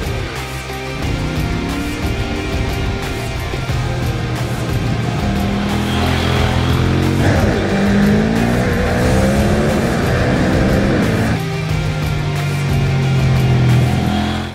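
KTM Duke 790 motorcycle with a 799cc parallel-twin engine being ridden hard, its engine loud and close throughout with rising and falling revs and gear changes, no talking.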